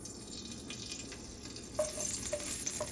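Curry leaves fried lightly in hot oil for chicken salna: a soft sizzle and stirring, then a sharper crackling burst partway through as the leaves hit the oil, close by.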